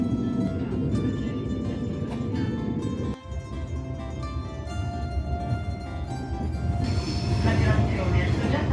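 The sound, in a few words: train rolling through the Italian countryside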